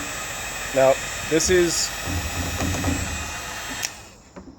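A heat gun blows hot air onto a Sintra PVC sheet, a steady fan-like whoosh running underneath a person talking nearby.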